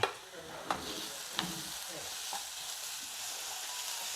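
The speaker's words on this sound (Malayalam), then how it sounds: "ഇതിനി നന്നായിട്ടൊന്ന് വഴന്ന് വരട്ടെ" A soft, steady sizzle of vegetables with curry leaves and dried red chilies sautéing in a pan for a raw plantain stir-fry, with a few light clicks of a spoon stirring.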